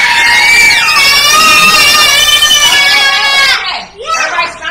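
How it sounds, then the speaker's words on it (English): A group of people scream together on cue, a loud burst of overlapping high-pitched voices that holds steady for several seconds before breaking off into scattered shrieks. "Everybody scream."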